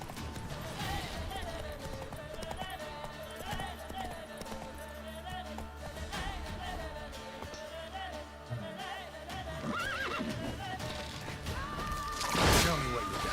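Hooves of Roach, the horse in Witcher 3, pounding in a steady galloping rhythm through the Velen countryside amid game ambience, with a voice talking over it.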